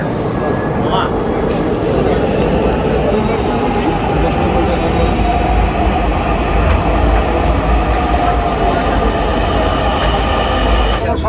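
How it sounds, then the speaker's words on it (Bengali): Inside a moving metro train boarded at Mirpur 10: a loud, steady rumble of wheels and motor fills the whole stretch, with faint voices underneath. "আমরা মেট্রো রেলে যাবো"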